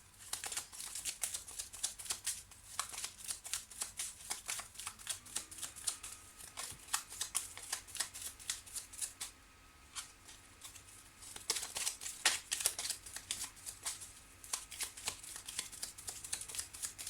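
Lenormand oracle cards are shuffled close by in a quiet room, a long run of soft, rapid riffling and flicking that rises and falls and pauses only briefly, with no voice.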